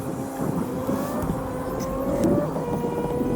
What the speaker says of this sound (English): It does sound a bit weird, the tractor in the distance.